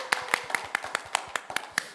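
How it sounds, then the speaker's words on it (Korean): Slow, evenly spaced claps, about ten sharp strikes in two seconds, from an audience at a school event, fairly close and alone without talk. "다시 한번 박수 부탁드립니다"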